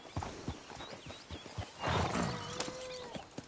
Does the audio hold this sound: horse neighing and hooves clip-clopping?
yes